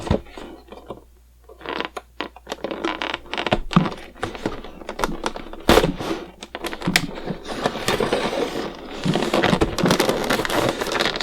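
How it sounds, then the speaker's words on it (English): Clicks, crinkles and tearing as the plastic packaging of a DC Universe Classics Martian Manhunter action figure is cut and opened up close, in irregular bursts that grow busier and denser toward the end. "So let's open this thing up."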